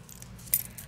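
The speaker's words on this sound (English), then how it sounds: "my keys." Keys clipped to a key fob on a diaper bag give a brief, soft metallic jingle, close and quiet, lasting under a second.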